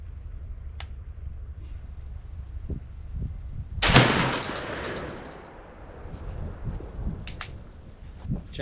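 One 20 gauge shotgun loaded with Winchester Longbeard XR number 6 shot fires a single sharp blast outdoors at a penetration test. The shot rings out over a low background and fades into a rolling echo.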